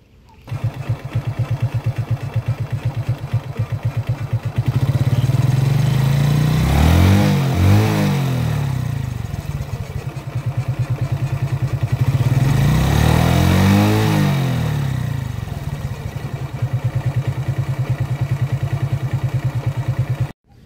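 A Suzuki Smash 115 motorcycle engine with reversed and missing clutch-side washers runs loud and rough nearby, revving up twice with a clattering, uneven drone between steady idle stretches.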